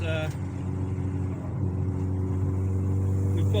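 A 1.8-litre turbocharged car engine with a K04-064 turbo pulls under throttle from inside the cabin, a loud steady droning hum that rises slightly as it accelerates.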